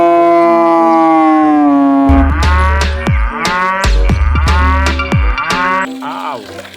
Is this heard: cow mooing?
yes